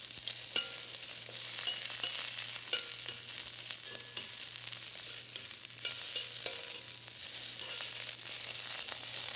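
Brussels sprouts sizzle and fry steadily in a hot pan, a constant close hiss with occasional light stirring clicks and no voices.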